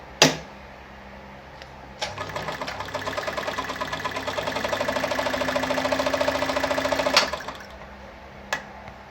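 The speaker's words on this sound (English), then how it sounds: "I'm gonna sew that again now." A Kayser model 138 automatic sewing machine sews a back stitch: a sharp click, then a close, steady mechanical whir with rapid needle rhythm for about five seconds, ending in another click.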